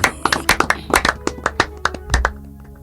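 A church congregation applauds in uneven, spaced claps, loud and close, with a few sharper slaps standing out and no voices.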